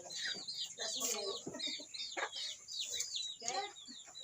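Ducks quack continuously in a busy, chattering flock, with overlapping calls at moderate distance and some voices mixed in.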